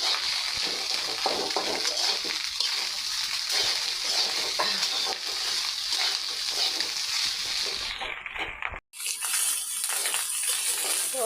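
Rice frying in a pan, a steady close sizzle with stirring scrapes running continuously before a brief cutoff near the end, then a quieter hiss resumes.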